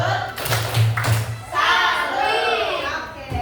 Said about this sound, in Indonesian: Sekarang kayak kemarin tepuk salut masih ingat nggak? Tepuk salut.